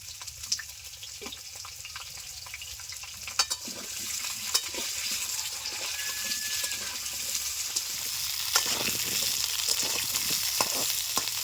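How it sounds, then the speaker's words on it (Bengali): Potatoes and carrots fry together in hot oil in a pan, a steady close sizzle that builds slightly louder, broken by a few sharp clicks of a utensil stirring. "আলু গাজর একসঙ্গে ভেজে নেব আলু গাজরগুলো দিয়ে দিচ্ছি"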